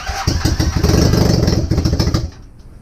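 A Honda Superdream motorcycle engine, choked and primed with starting spray, catches and fires with loud rapid pulsing for about two seconds before cutting out into quiet.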